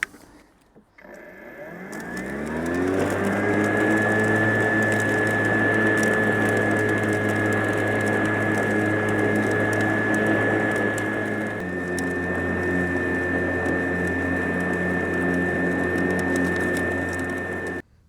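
Cobra MX51S40VX cordless lawnmower mulching grass, its motor spinning up and holding a loud steady whine with a clear tonal hum, briefly dipping in pitch partway through before running on, no talk.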